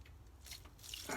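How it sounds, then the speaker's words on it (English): Water poured onto the dry soil of a potted grafted plant, soft splashing and trickling in short bursts that grow brighter toward the end, quiet and close. "So this is dry, so I'm going to water it"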